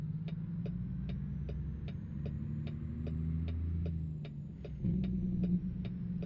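Kenworth truck engine with a straight pipe exhaust mod in American Truck Simulator, a steady low throbbing rumble with a rhythmic pulse, rising briefly in loudness near the end, with no talk.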